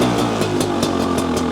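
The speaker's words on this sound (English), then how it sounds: "So the bike is idling." A 2022 Beta 300 Race Edition two-stroke dirt bike idles in neutral up close, a loud, steady, rapid popping engine note with regular pulses and no talk.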